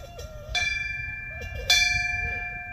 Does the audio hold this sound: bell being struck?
yes